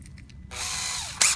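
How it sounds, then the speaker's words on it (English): A power drill drives a hinge screw into a hard ash wood door in one short, close whirring burst that bogs slightly as it seats, ending with a brief sharp click. "I take the drill,"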